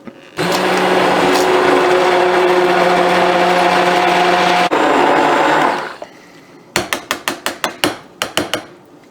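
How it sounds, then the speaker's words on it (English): An immersion blender whirs steadily and loudly through a potato and onion soup for about five seconds, then cuts off, followed by a rapid series of sharp knocks and taps. "If you're using an immersion blender, just keep it in the soup."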